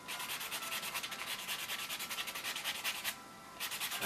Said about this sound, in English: you don't need to buff a lot